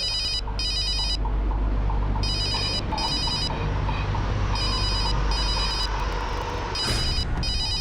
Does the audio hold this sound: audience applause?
no